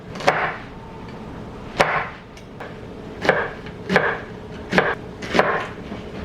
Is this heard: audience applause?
no